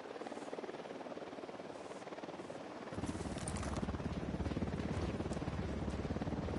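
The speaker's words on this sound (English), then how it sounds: "The drone is up." Drone on patrol flying overhead, a steady buzzing rotor hum throughout that grows louder and fuller about halfway through as it comes closer.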